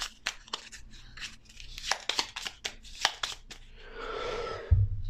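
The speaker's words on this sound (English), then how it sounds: "I guess I should shuffle the deck and then draw" A deck of cards is shuffled during a Gloomhaven: Jaws of the Lion board game session: a run of crisp, close taps and flicks, then a soft riffling burst that ends in a quick thump.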